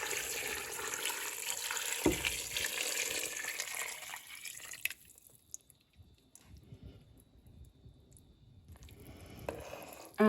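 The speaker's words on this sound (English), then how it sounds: "Then I'm gonna add in my broth." Two quarts of broth poured into a gumbo pot holding roux, a steady liquid rush for about five seconds that then falls to quiet pot sounds and faint stirring.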